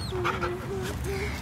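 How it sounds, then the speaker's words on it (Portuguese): An old dog whimpers and whines nearby in thin rising and falling tones, in short repeated bursts over a low rumbling background. "Ei, cachorro."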